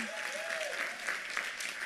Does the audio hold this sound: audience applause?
yes